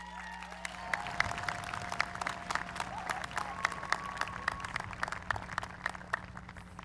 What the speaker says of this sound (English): Ladies and gentlemen, another round of applause for Tali